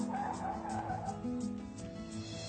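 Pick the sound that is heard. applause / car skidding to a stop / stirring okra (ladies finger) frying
car skidding to a stop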